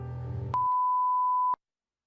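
In the video game Eternights, a single steady electronic beep cuts off dialogue abruptly and holds for about a second before stopping dead into silence.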